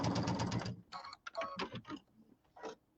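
A sewing machine stitches fabric squares in a quick whirring burst, then several shorter bursts with brief pauses between them, close and fairly quiet.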